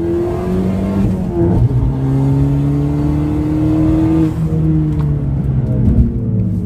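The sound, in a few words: car accelerating at full throttle on a track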